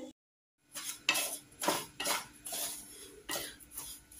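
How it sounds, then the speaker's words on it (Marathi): Semolina roasts in ghee in a pan, with a utensil scraping and clinking against the metal in a quiet, irregular rhythm of short strokes. "तूप टाकून रवा भाजून घेते खमंग।"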